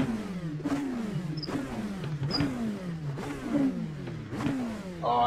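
The Gibson engine of a Dallara P217 LMP2 car in iRacing revs hard through repeated upshifts. It climbs in pitch, cuts briefly, then climbs again about five times, loud and close, with no talk.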